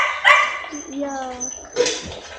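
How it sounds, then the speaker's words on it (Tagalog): Dogs on a pig farm give a few close barks and a whimpering yip, with people talking over them. "Wait, there's dogs."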